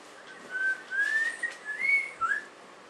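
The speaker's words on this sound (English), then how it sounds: "You learned to whistle, did you?" A person whistles a short, wavering tune, soft and close, a few rising and falling notes with brief pauses between them.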